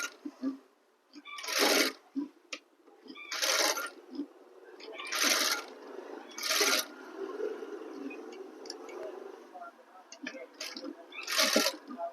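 A sewing machine stitches curved suit fabric slowly in several short, separate bursts, each a sharp rattling run of a second or so with quieter handling sounds between, while a voice talks in the gaps.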